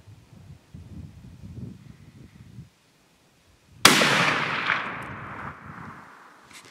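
A single sharp rifle shot from a 30-06 Savage Axis fired at a deer about 200 yards away, a loud crack with a rolling echo that fades over several seconds after quiet outdoor rustling.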